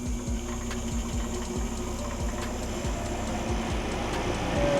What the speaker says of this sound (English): It takes about 2 minutes for it to start purging, which that's really cool that they put that.